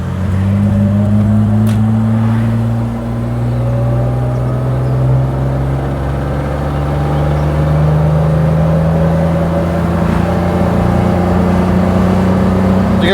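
A Leyland Princess limousine's engine roars steadily at high revs as it is opened up, a loud sustained drone with rising and shifting tones throughout, with no talk.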